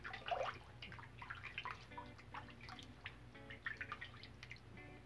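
Water splashed and dripping at a sink while preparing to shave, scattered small splashes and drips close by, fairly quiet with no talking.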